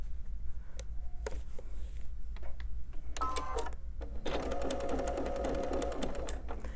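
Brother sewing machine stitching small quilt pieces, starting with scattered clicks and short runs, then settling into a fast, rapid mechanical stitching rattle with a motor whine over a steady low hum.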